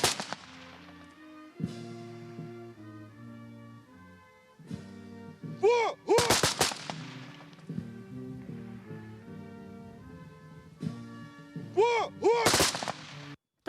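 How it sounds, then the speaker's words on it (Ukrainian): Sharp gunshot volleys crack out in two separate bursts, loud and close, as a gun salute fired into the sky at a soldier's funeral, over somber sustained music playing throughout. "звучать постріли в небо"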